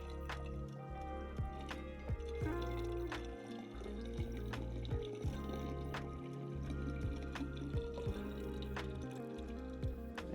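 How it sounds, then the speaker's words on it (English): A final topping-off of water pours into an IKEA self-watering pot's reservoir, producing a steady close trickle with intermittent drips and light splashes, no voices present. "And our final 30 ounces of water just to top off the reservoir."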